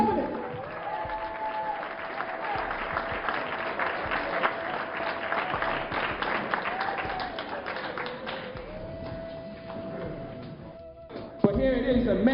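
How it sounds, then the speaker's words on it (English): Audience applause at an economics lecture: sustained clapping from a crowd fills the space, mixed with a murmur of voices and a steady background tone, then trails off near the end. "Give him a round of applause"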